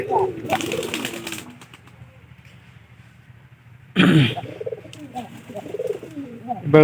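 Pigeons coo in a pigeon loft, with deep rolling calls arriving in two bursts separated by a quieter stretch, close by, along with some throat-clearing sounds.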